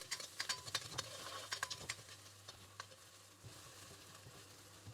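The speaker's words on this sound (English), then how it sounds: "my onions have been sauteing for a couple minutes" Onions sautéing in a pan with chopped seasoning peppers, a soft crackling sizzle with quick irregular pops and light stirring scrapes, faint and close, with no talk.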